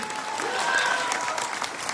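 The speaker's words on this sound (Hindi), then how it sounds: "एक बार इस खतरनाक शब्द के लिए जोरदार ताली जाओ भाई साहब" An indoor audience at a sales training talk bursts into steady, dense applause, many hands clapping together for a couple of seconds with a faint voice underneath.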